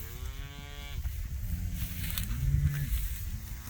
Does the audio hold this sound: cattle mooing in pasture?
yes